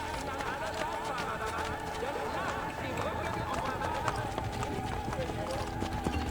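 A horse gallops in Assassin's Creed Brotherhood, with steady rapid hoofbeats running throughout beneath game sounds and someone talking.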